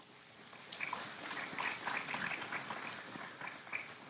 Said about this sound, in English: They're not clapping for me, they're clapping for you, Mayor Neyland.